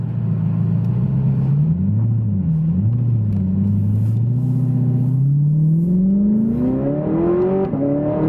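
An Audi R8 V10 engine revs hard under acceleration, its loud, rising howl climbing steadily in pitch with brief dips at gear changes, close and continuous with no talking.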